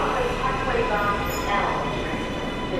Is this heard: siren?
no